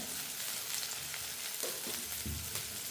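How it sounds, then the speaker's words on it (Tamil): Chopped onion and green chillies, with fennel seeds and curry leaves, sauté in a pan, giving a steady close sizzle and crackle with a few soft stirring scrapes and no voices. "நாங்கள் நல்லா வதங்கட்டும் வெங்காயம் மிளகாய் எல்லாம்"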